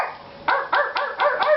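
A dog barks five times in quick succession, sharp and close, with a brief quiet moment before the first bark.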